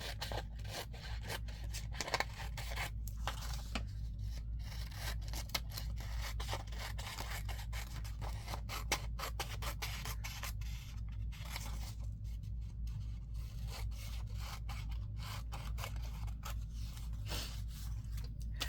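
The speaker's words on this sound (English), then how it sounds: "And then I'm just going to trim the white edges off." Scissors snip along the white edges of paper while decorating coin envelopes for a junk journal, a run of soft, close cutting and rubbing sounds over a steady low hum, no talking.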